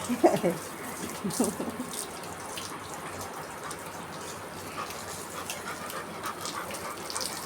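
Water streams from a pipe onto a dog being bathed, a steady broadband rush of flowing water with some splashing early on and a voice speaking briefly over it.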